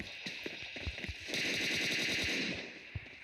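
Rapid automatic gunfire from PUBG Mobile Lite rattles in short bursts, then a sustained stream of shots, with a few single cracks near the end.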